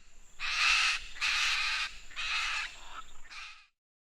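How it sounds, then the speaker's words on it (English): Macaw calling alone in four harsh, raspy squawks, each about half a second long, loud and close, the last one shorter and fainter. "Macaw."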